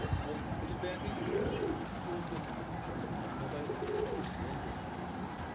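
Soft, low pigeon coos repeat a few times at a moderate distance over a steady background hum.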